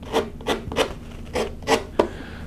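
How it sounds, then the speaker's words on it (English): Six short rasping rubs of a sanding block against a freshly sawn wooden benchwork edge, steady back-and-forth strokes, close and fairly loud with no talking. "Got a sanding block handy, and so we'll just clean up our"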